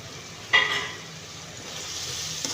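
Coriander leaves and mint are stirred into ginger garlic paste frying in a pan for Ramadan nonbu kanji: a sharp utensil clack, then a steady sizzling hiss, close up and without speech.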